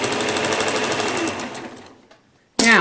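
A sewing machine quilts a small catnip cat quilt, its needle running in a fast steady hum for about two seconds before stopping, then a short loud burst of sound at the end.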